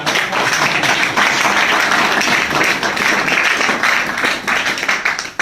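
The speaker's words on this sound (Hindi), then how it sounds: "सबके लिए ताली बजा दो" Loud, close applause from a room of trainees at a business training session, dense and sustained clapping holding steady for the whole stretch.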